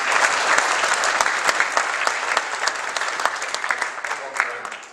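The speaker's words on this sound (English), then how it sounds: "Let's give a round of applause" A conference audience gives a speaker a dense, sustained round of applause, many hands clapping steadily and loudly for several seconds.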